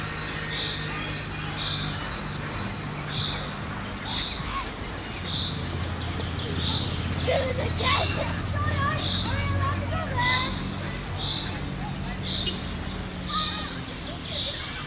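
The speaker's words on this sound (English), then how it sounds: "Children." Children's voices babble faintly at a distance in an outdoor setting, under steady, evenly spaced bird chirps and a low background rumble.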